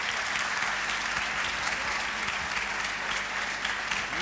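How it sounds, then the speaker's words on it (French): Sustained audience applause at a youth entrepreneurship conference, dense steady clapping filling the whole stretch without a break, fairly distant and even, no voices on top. "Je pense qu'on peut les applaudir pour ce qu'ils font."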